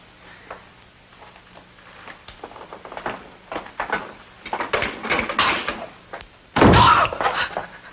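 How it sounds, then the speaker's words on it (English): A cellar door slams shut with one loud, heavy bang near the end. Quieter shuffling and knocking build up before it. "The cellar door shut."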